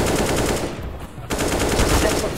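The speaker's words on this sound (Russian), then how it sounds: "Да, он стреляет, смотри." Sustained automatic gunfire in CS:GO: rapid bursts of loud, close shots in quick succession, a brief lull near the middle, then continuous firing resumes.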